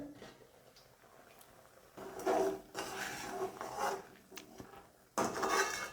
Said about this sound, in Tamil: இப்போ நான் மூடியை ஓப்பன் பண்ணுறேன்